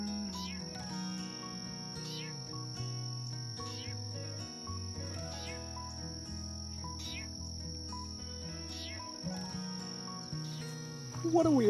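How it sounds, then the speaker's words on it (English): An unusual bird calls in woods along a hiking trail, with repeated chirps and sweeping notes over a faint layered insect-like drone. The sound is quiet and distant, and no one speaks. "What a weird sounding bird."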